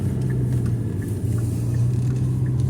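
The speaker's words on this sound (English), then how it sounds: "That car's coming too fast." A car rushes past nearby at speed, its low engine rumble and road noise holding loud and steady for the whole short stretch with no talk.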